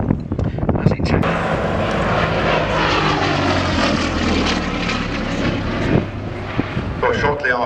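Gloster Gladiator biplane at an Old Warden airshow, its radial piston engine and propeller droning steadily and loudly nearby for the whole stretch, with scattered voices from the crowd underneath.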